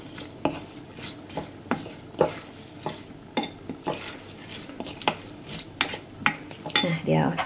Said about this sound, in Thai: ผสมให้เข้ากัน